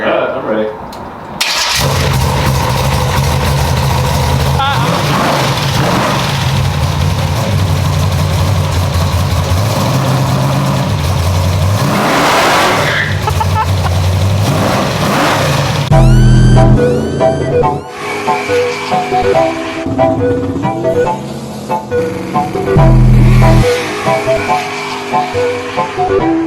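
A big-block Chevy V8 with a carburetor, fitted in an early-1980s Chevy C10 truck, cranks, catches and idles loudly, then revs up in repeated surges, with people talking over it.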